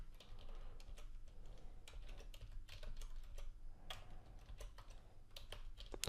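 A computer keyboard being typed on as a server name is entered during ESP32 and Arduino coding, giving quiet, steady key clicks in irregular bursts throughout with no talking.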